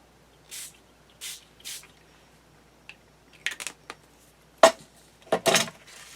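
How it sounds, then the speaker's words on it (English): Several short hissing bursts of yellow ink mist sprayed onto paper for a journal, scattered and close, with small handling clicks between them and no talking. "Now let me just spray some yellow on this one"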